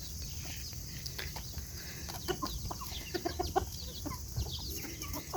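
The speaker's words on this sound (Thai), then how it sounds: "มันกำลังไข่อยู่คอกกู" A hen clucks in a farm pen while laying eggs. Scattered short clucks and squawks rise and fall over a faint background hiss, growing busier toward the end.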